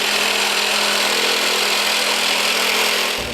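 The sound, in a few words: drilling holes in an aluminum sculpture part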